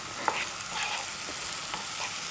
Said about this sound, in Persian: خب به شکل آهسته آهسته سرخ میشه